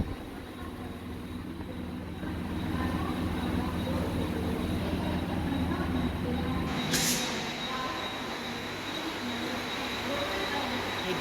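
Suburban train pulling into a Mumbai-area railway station, a steady loud rumble of rail cars with a brief sharp hiss or squeal partway through, continuous for the whole stretch with no voices.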